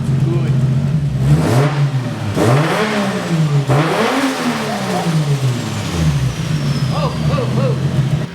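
Zupra project car engine sits at a steady idle, then blips through several quick revs that rise and fall, loud and close. A voice speaks over parts of it.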